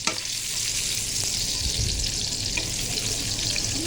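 Sliced shallots fry in hot oil in a pan with a steady, close sizzle, and low scraping from stirring breaks through now and then.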